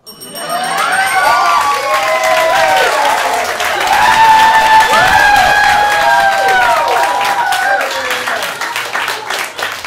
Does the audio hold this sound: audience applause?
yes